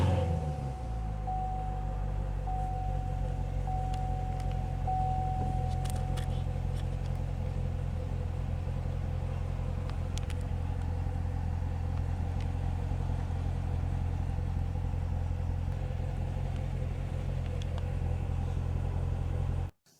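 A 2014 Chevrolet Corvette Stingray 1LT Coupe (Z51) with push-button ignition fires up with a brief whine and surge, then settles into a deep, steady V8 rumble at idle for a long stretch.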